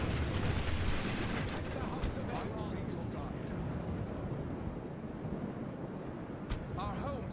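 Dense, continuous battle din from a strategy video game skirmish, with enemy troops firing back amid overlapping booms, clashes and crackling, loud throughout with brief sharp hits.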